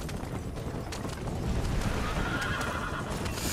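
In the video game Red Dead Redemption, a horse neighs over the steady thud of galloping hooves, loud and close, with a game soundtrack behind it.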